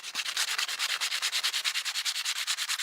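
Dollar Tree sandpaper rubbed by hand in quick, steady back-and-forth strokes, an even rhythmic scratching that repeats about ten times a second, close and clear with no talking.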